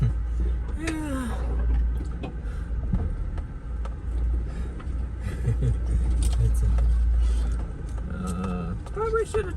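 A vehicle rolls along a wooded trail: a continuous low engine rumble with creaks and rattles over the whole stretch, and a muffled voice comes through now and then.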